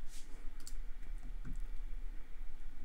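Computer keyboard number keys tapped to switch an audio effect on and off for separate tracks, heard as a few light, quick clicks spaced apart over a low steady background hum.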